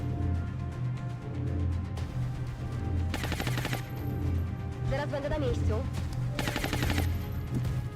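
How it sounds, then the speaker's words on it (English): Rapid bursts of laser pistol fire crackle in XCOM Long War, two dense volleys of sharp repeated shots over steady game background noise, with a voice talking alongside. "And my laser pistol, yeah."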